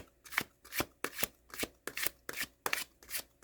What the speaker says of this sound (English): These cards do shuffle beautifully, by the way. Like, listen.